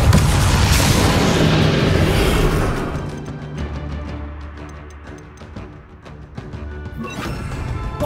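Capulso spell impact in Hogwarts Legacy: a heavy crashing boom with rumbling debris that fades over a few seconds, followed by scattered game clatter and smaller hits.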